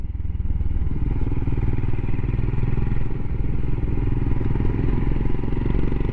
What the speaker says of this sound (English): I do like that exhaust.